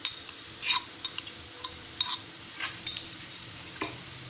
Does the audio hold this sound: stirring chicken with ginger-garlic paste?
yes